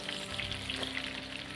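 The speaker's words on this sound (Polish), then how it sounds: "Jak widać, smażą się już kotleciki." Pork cutlets frying in hot oil in a pan outdoors, giving a steady, dense sizzle that crackles continuously up close with no talk.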